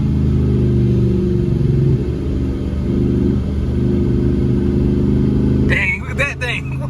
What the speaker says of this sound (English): We'll do a little downshift.